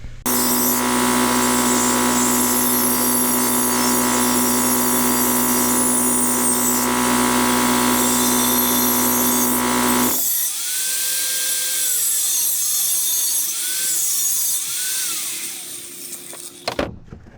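A cut-off wheel, or death wheel, grinds loudly and steadily through pipe for a Corolla race car build for about ten seconds, then winds down and spins freely more quietly before stopping.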